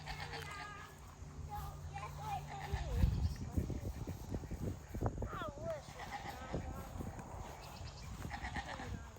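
A farm goat gives a few wavering bleats amid outdoor noise, with people and someone talking nearby and rustling of cut limbs on a small homestead.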